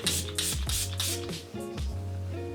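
Several short hissing sprays from a pump bottle of makeup setting spray, each a close, breathy burst, repeated in quick succession.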